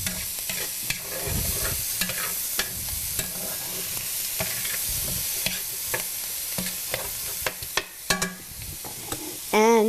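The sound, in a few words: stirring seasoned chicken in a frying pan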